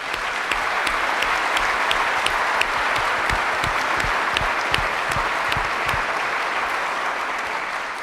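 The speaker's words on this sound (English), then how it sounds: "Please give them a round of applause." An audience at a school district address claps steadily, a dense even wash of applause with a few distinct sharper claps, sustained for the whole stretch without voices.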